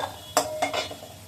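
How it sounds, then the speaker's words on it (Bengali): A few sharp metallic clinks of a utensil against a pan while fried potatoes are lifted out, with a faint sizzle beneath, close and fairly quiet. "আলুটা ভাজা হয়ে গেছে। এবার আলুগুলোকে তুলে নেব।"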